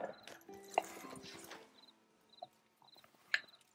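A horse's hooves clop as a rider travels in Red Dead Redemption 2. The quiet, irregular steps and thumps come through amid sparse game sounds and a few short tonal chirps, with no talking.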